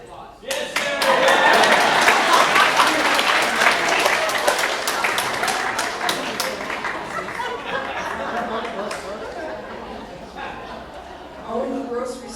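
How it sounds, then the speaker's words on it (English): Audience applause at a woman's club murder mystery event, loud clapping that swells quickly, holds, then gradually thins out, with some chatter and chuckles mixed in and a voice near the end. "Where's my applause?"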